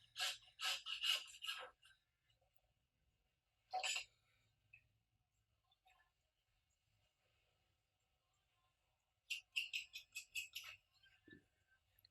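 A knife scrapes along a lamb shoulder bone in quiet, rasping strokes, two brief bursts at the start and end with a single scrape between, close and soft.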